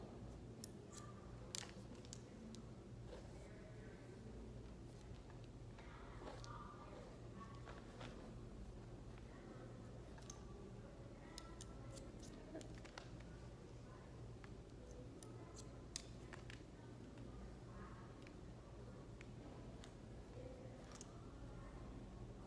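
Hairdressing scissors snip hair in short irregular bursts of crisp clicks during a round layered haircut, close but quiet against a steady low hum, with a few faint murmurs now and then.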